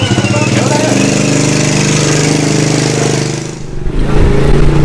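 A motorcycle used as a neighbourhood ojek taxi starts after stalling and runs loud and close, its steady engine rumble filling the clip before a brief dip and a revving return.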